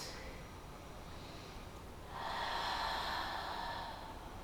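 Breathing during a Pilates core exercise: a quiet stretch, then a close, breathy exhale rising and holding for a couple of seconds, with no talk.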